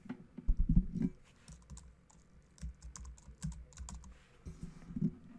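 Short bursts of typing on a computer keyboard while entering a password during a local WordPress install, with clustered key clicks separated by brief pauses, close and without talking.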